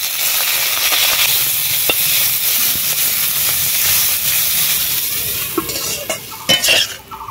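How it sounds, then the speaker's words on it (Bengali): Potatoes frying with salt and turmeric, with leafy greens added, hiss and sizzle loudly in a steady close wash, broken near the end by a few sharp clinks of a stirring utensil. "আলু লবণ হলুদ দিয়ে ভেজে নিচ্ছি হালকা করে, তারপরে ডিমের শাক দেবো।"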